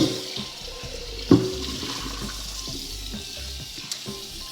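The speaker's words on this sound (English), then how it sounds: "I have this pot I have to wash." Running water splashes steadily into a kitchen sink while a pot is washed, a continuous close rush with one brief clunk partway through and no talking.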